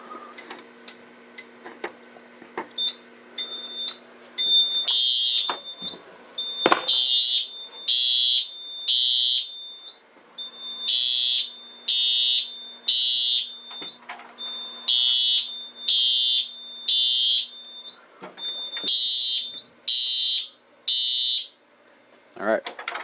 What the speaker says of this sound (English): now we can go ahead and test the smoke detector